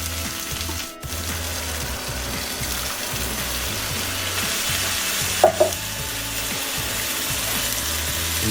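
Chopped tomatoes from a tin sizzle steadily in a cast iron pan for Mexican shakshuka, with the soft scrape and clatter of stirring and a couple of sharper knocks just past the midpoint, no voices.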